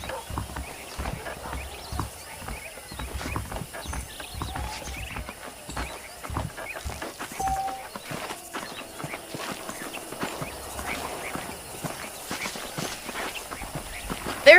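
Horse hooves clip-clop at a steady walking rhythm in the Western video game Red Dead Redemption, fairly quiet and even, with light ambient game sounds behind them.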